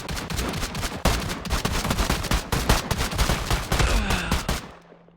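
Gunfire in an alternating shooting drill, rapid close shots overlapping in dense bursts for about five seconds before stopping abruptly.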